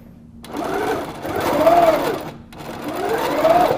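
A small sewing machine stitches quilt binding at a mitered corner, its motor whirring in three rising and falling bursts separated by brief pauses, close and fairly loud, with no one speaking.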